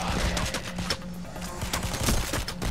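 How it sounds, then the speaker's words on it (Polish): Gunfire in the video game Payday: The Heist on normal difficulty, a rapid, dense run of close automatic rifle shots and overlapping bursts that continues throughout, loud and without talk. "No ja z tej strony ich strzelam."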